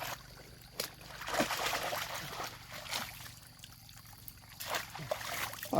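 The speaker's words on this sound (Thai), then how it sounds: "เสียงน้ำไหลมวนขนาด" Water trickles and splashes into a traditional fish trap during rain, with soft, uneven bursts of flow and splatter heard fairly faintly outdoors.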